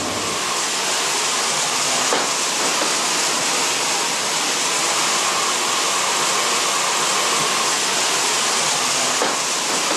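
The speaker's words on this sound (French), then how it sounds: "il va aller le déverser dans les lingotières" Molten gold pours into ingot molds in a gold embroidery workshop, a loud steady hissing, rushing wash with no clear breaks, like a constant roar of splashing and bubbling.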